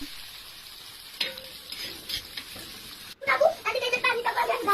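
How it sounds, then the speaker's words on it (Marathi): Chopped onion frying in oil in a pan, a soft steady sizzle with occasional stirring scrapes, growing louder and more crackly toward the end. "कांदा तेलामध्ये टाका, तुम्हाला पाहिजे तेवढं तेल घेऊ शकता।"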